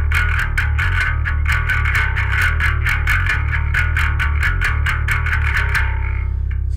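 Bass guitar played through the distortion channel of a Darkglass ADAM pedal, loud and gritty, with fast repeated picked notes in a driving rhythm that stops near the end, played alone without talk.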